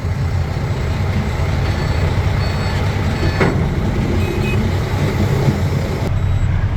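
Ten-wheeler trucks idling in a queue beside a lone excavator at an earth-hauling site, a steady loud diesel rumble with a continuous high reversing beep and a brief air-brake hiss.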